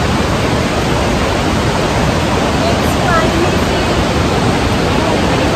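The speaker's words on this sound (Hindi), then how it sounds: "पानी आ रहा है।" Cloudy, cement-grey water flows strongly in Hualien, Taiwan, making a loud, continuous broadband rush that fills the whole stretch without a break.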